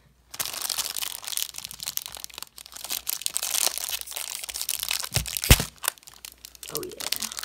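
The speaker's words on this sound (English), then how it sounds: "So let's rip her open." A trading card pack wrapper is torn open in a long, loud run of crinkling, crumpling and ripping foil, with a sharp crack near the end and brief handling sounds after it.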